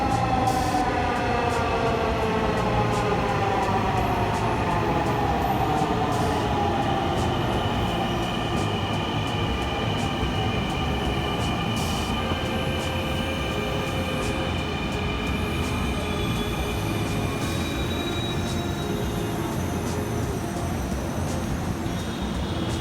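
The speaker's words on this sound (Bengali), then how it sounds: "মাত্র ৫ মিনিটের ভেতরেই কিন্তু আমাদের কাঙ্ক্ষিত মেট্রো রেলটি চলে আসে" Dhaka metro rail train pulling into a station, a long continuous rolling roar with rising and falling whine tones as it approaches and slows, steady and fairly loud with no voices.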